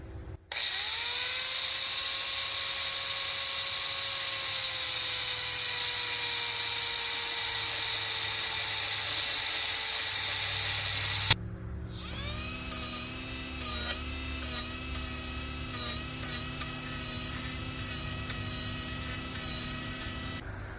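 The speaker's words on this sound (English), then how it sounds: "I use my cutoff wheel on a angle grinder." An angle grinder with a cutoff wheel slices through spiral metal duct, a loud steady high-pitched whine and rasp for about eleven seconds, then a rougher, stuttering cut with a changing pitch as the wheel bites the spiral seam.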